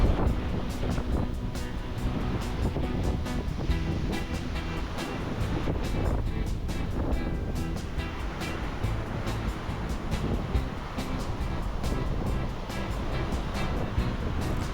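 Ocean surf rolls in continuously at Jupiter Beach, Florida, during kitesurfing. A dense, steady roar of breaking waves is heavily mixed with buffeting wind noise on the microphone, and no voices are heard.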